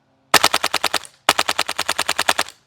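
A TAP PPK20 airsoft gun fitted with an MP5 magazine adapter fires two sharp, loud full-auto bursts of roughly eight and twelve rapid cracks, separated by a brief pause.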